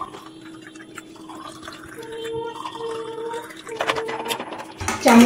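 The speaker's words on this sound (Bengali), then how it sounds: "ঠান্ডা জল দিয়ে দিচ্ছি।" Cold water poured into a glass of roasted mango sherbet, a thin trickling stream that builds in volume and ends with a louder splashing fill, close up with no talk.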